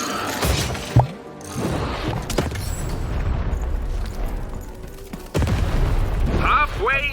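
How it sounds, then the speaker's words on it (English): A cannon fires in Lost in Random, a single heavy boom near the start followed by rumbling game ambience, with another loud impact later and music underneath. "Shoot the button to fire the cannon."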